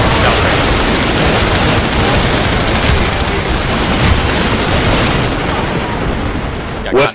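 Dense, loud battlefield din from a video game fight, with overlapping automatic gunfire, booms and explosions forming a constant roar that cuts off abruptly at the end.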